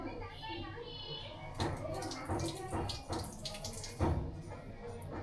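Water splashes and trickles into a pot being filled to make tea, a short uneven pour with several louder gushes over a soft background hiss, and a voice speaks in the room at the same time.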